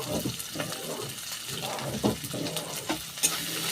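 Spices with Kashmiri red chili powder fry in hot oil for a tilapia oil-jhal curry, giving a steady close sizzle broken by a few scraping stirs of a spatula, with no one speaking.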